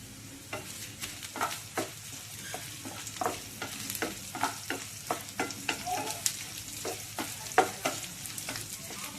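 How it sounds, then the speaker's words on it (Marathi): Whole coriander seeds and dried red chillies roasting in a pan give a light, steady sizzle broken by frequent scraping strokes of a spoon, close and fairly quiet. "इथं लाल मिरच्या घेतल्यात वाळलेल्या, ह्या पण याच्यातच तळून घेऊ."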